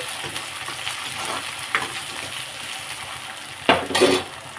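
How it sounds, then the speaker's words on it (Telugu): Ginger garlic paste frying with onions in a pan for a taro root curry gives a steady, close sizzle, with a few sharper scrapes of a spoon stirring near the end and no voices. "అల్లం వెల్లుల్లి పేస్ట్ ఫ్రెండ్స్ వేసి ఒకసారి వేపుకొని"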